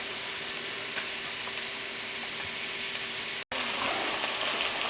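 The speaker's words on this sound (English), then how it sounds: "I'm going to cook it through until the onions are tender, maybe a little bit of color, and everything is nice and hot" Onions frying in a pan, a constant dense sizzle close by with a momentary break before it continues just as loud.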